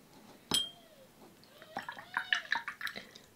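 A watercolour brush swishes and taps in a water jar, giving soft sloshing, small clinks and bubbly dripping sounds in a quiet room.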